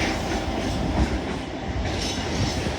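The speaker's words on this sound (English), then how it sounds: "through now is a GBRF Class 66 working a service from Hepscott Junction to Carlisle North Yard, 66 720." A GBRF Class 66 freight train hauling wagons passes through Carlisle on the West Coast Main Line, with a steady rumble and rhythmic clickety-clack of wheels over rail joints, close and continuous with no voices.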